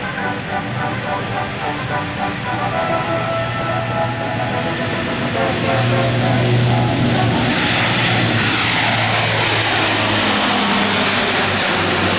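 A Lockheed C-130J-30 Hercules four-engine turboprop passes at an airshow, its loud, steady propeller drone building and swelling as it nears, with a rising broadband roar in the second half.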